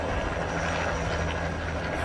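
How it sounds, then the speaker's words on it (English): Helicopter flying overhead outside near a porch, a broad steady rumble with a faint rhythmic thrum, fairly distant and continuous. "And there's a helicopter"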